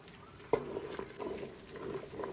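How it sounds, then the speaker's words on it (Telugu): Strained jaggery syrup bubbling and sizzling in a stock pot, a soft continuous simmer with a few faint pops and one brief clink near the start, alone without talk. "స్ట్రెయిన్ చేసుకున్న బెల్లం పాకాన్ని మళ్ళీ స్టాక్ పాట్లో వేసి బాగా ముదురు పాకం వచ్చే వరకు బాయిల్ చేసుకోవాలి."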